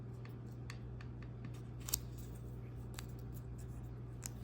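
Scissors trimming a Play-Doh kawaii food craft, giving a few faint snips and small clicks over a steady low background hum, with no talking.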